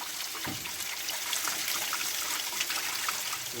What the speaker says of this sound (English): So all this water coming out is pretty hot.